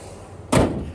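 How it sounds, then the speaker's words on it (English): A hood being shut on a restored 1967 Buick Skylark two-door hardtop: one solid, close thump midway through, its ring fading over a quiet background. "But we'll button up that hood,"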